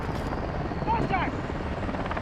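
A helicopter in Call of Duty: Modern Warfare II gives a continuous loud rotor drone, with a voice talking briefly over it.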